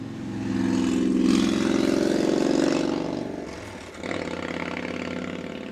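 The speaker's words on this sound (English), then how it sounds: "Yep, the sounds of nature, motorcycles." A rumbling motorcycle engine drone swells and fades as it passes by outside, followed by another lower motorcycle engine hum continuing in the distance.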